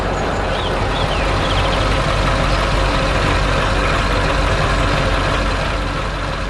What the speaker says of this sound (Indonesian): Truk kuning sedang bekerja keras di dekat rumah kuda merah.